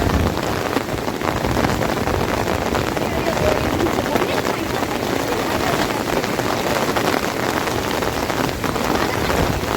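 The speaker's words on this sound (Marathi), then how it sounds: "पावसाचं आगमन झालेलं आहे." Rain falls steadily on surfaces at the Deogad windmills during the monsoon, a loud continuous patter with voices murmuring underneath.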